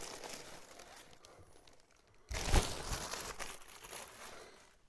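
Plastic packaging from AliExpress parcels crinkles during unboxing, faint rustling at first, then a sudden loud burst of crumpling that gradually fades, close by and with no talking.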